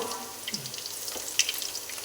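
Garlic fries in hot coconut oil with a soft, steady sizzle and small crackles, close by, over about two seconds.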